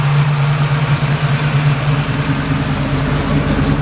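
A 1964 Chevrolet Malibu SS engine idling up close, a loud steady low rumble with an even throbbing pulse and no talk.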